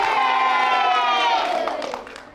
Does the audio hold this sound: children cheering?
yes